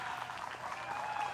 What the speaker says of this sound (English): Listen to the crowd get after it, too.